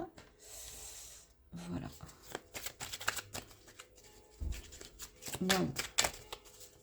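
Tarot cards are handled and shuffled close up, with soft papery riffles and slaps in irregular bursts, while someone speaks briefly in French between them.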